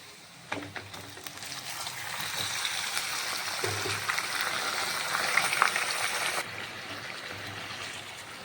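Chicken pieces dropped into a pan of fried onions, setting off a sudden loud, steady hissing sizzle that holds for several seconds before easing back to a gentler frying crackle.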